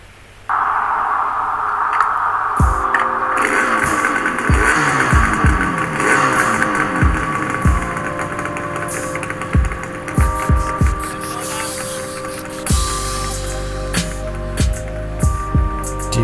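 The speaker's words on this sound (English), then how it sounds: "That's a special RD350 two-stroke exhaust sound." A Yamaha RD350 two-stroke motorcycle starts and idles with a loud, ringing, crackly exhaust, punctuated by sharp throttle blips and pops, close to the bike on a mountain road trip.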